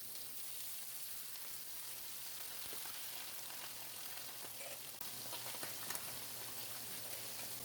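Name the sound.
fish frying in oil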